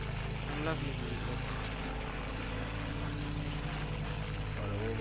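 Propeller warplanes from the Battle of Britain era drone steadily in a flight combat video game, a continuous engine hum with shifting pitch, while people talk over it.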